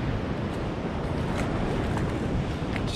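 Steady surf washing onto Ocean Beach at night, a broad continuous rush of breaking waves with wind noise buffeting the microphone and no voices.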